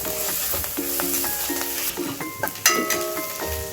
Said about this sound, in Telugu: ఇప్పుడు అల్లం వెల్లుల్లి పేస్ట్ ఉంది కదా, ఇది వేసి వేయించేసుకుందాం